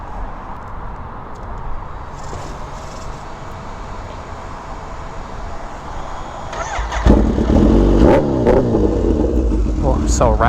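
A Kawasaki Ninja H2 motorcycle fitted with a Brock's full exhaust system idles under low wind-like rumble, then bursts into loud, close, raspy revving from about seven seconds onward.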